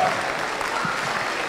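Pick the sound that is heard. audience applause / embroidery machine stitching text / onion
audience applause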